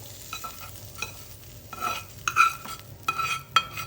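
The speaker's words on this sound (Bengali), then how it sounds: "তা আমি এখন এটা খুব সুন্দর করে মিক্সড করব, মাখাবো" A spoon stirs and scrapes through a thick mashed mixture of fried dried loitta fish in a pan, with light clinks of metal, irregular and close, over a soft background hiss.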